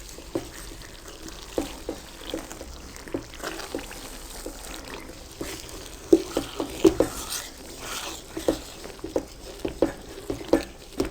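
Egg halwa being stirred and turned in a pan, with a steady run of soft scraping and tapping strokes from the spoon, growing more frequent and a little louder toward the end, and a faint sizzle beneath.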